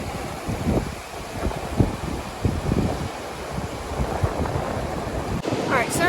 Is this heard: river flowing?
yes